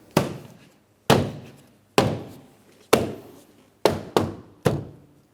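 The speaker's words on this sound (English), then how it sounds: "I'm going to tap it in all the way around the door panel." Seven sharp, solid thunks in sequence, evenly spaced at first and then quicker, as a hand strikes a Mitsubishi Outlander front door panel to snap its clips into place.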